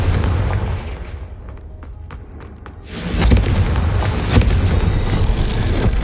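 A Confringo fire spell explodes in Hogwarts Legacy, a sudden loud blast hitting at about three seconds and rolling into sustained booming rumble after a quieter stretch of crackling impacts.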